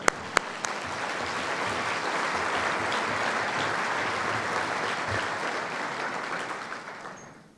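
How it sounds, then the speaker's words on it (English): An audience at a business and ethics conference breaks into sustained applause, a broad, even wash of clapping that holds steady for several seconds after a couple of sharp opening claps, then fades out at the end. "Give them a round of applause."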